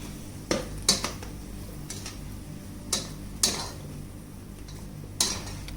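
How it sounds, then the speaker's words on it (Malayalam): Bread slices for masala bread being stirred in a pan until golden brown, heard as sharp utensil clicks and scrapes against the pan at irregular intervals over a faint background, with no talking. "ഇത് നല്ലോണം ഗോൾഡൻ ബ്രൗൺ ആവുന്ന വരെ ഇത് ഇളക്കി കൊടുക്കാം."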